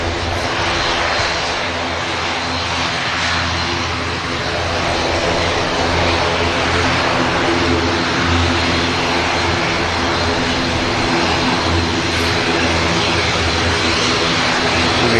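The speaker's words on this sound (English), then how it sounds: "There goes the Neo. Back to Amsterdam." An Airbus A320neo jet airliner departs toward Amsterdam, a strong continuous engine roar close by and loud, holding steady and building slightly across the takeoff with no voices.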